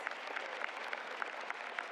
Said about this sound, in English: let's give a round of applause to your families, friends,